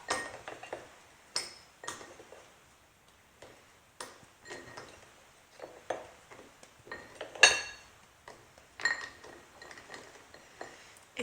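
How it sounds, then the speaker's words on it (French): Chocolate bars being cut up for a homemade Bounty recipe, a series of sharp irregular clicks, knocks and clinks of knife against board and dish, close and quiet, with no talk. "Je vais découper mes barres de chocolat de la sorte."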